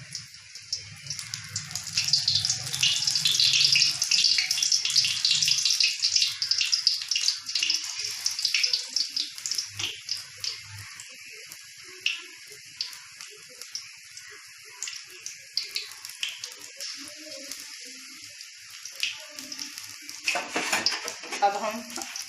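Chili pakoras dropped into hot oil, a bright crackling sizzle that is strongest at first and then thins to scattered pops and spits, with clinks of a utensil near the end.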